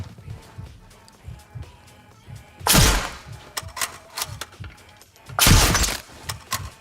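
Sniper rifle shots in the World War II video game Sniper Elite Resistance: two loud, sharp cracks a few seconds apart stand out over a busy layer of quieter clicks and game effects, with no talking.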